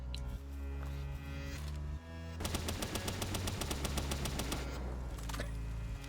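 Gunfire hits a tree in the video game Palworld, a rapid automatic burst of sharp evenly spaced shots lasting several seconds between stretches of droning background music.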